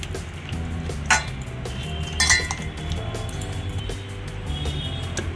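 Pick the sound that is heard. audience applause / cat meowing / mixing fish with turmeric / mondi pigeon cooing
mixing fish with turmeric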